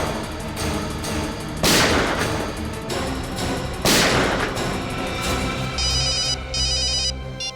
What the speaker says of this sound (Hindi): हाँ मैं दया को फोन करता हूँ।